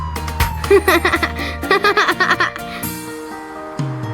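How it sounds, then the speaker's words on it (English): A playful wailing siren sound rises and falls repeatedly over a musical backing, like a toy or cartoon police siren in a children's song. "Siren on the police bus goes woo woo woo"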